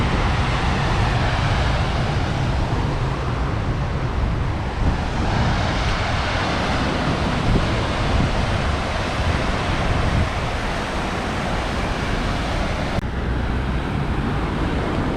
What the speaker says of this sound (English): So this is the Somes River.